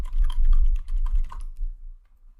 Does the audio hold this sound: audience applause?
no